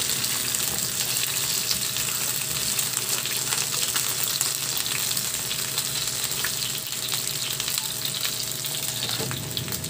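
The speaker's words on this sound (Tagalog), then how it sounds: "Igisa ko na rin yung bawang at sili" Garlic and chili sauté in a hot pan, giving a continuous, dense sizzle and crackle at an even, moderately loud level throughout, with no talking.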